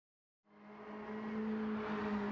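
A 1989 BMW M3 in a racing video game revs up from silence into a sustained high-RPM engine drone, with a steady tonal whine building as it drifts.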